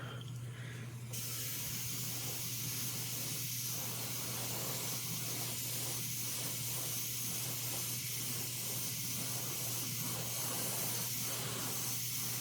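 Paint misted lightly from an airbrush-style sprayer onto a quarter-scale Old Man He-Man figure, giving a steady close hiss that runs unbroken throughout with faint pulsing, alone without talk.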